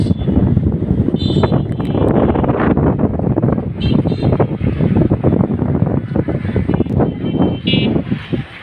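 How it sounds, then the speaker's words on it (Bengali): Strong wind ahead of a storm in Gazipuri under heavy cloud roars loudly and continuously against the microphone, buffeting hard throughout with no pauses. "এত পরিমাণে বাতাস, মনে হয় যে হাত থেকে মোবাইল পড়ে যাবে"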